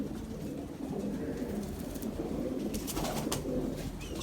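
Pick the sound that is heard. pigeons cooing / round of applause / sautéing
pigeons cooing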